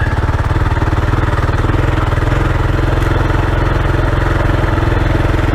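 A KLR 650 adventure motorcycle is ridden over a rough, rutted road, its single-cylinder engine thumping in a steady, loud, continuous drone with rumbling wind and road noise throughout.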